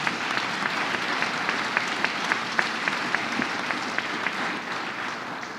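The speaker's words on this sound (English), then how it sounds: "Let's give her a round of applause." Steady applause from an audience at a government press event about buying land for a new school of pharmacy, dense clapping holding an even level throughout with a few sharper individual claps standing out.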